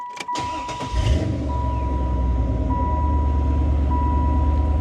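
A 1996 Chevrolet Impala SS with a 5.7-liter 350 LT1 V8 cranks briefly and fires, then settles into a deep, steady, loud idle heard up close with no talking.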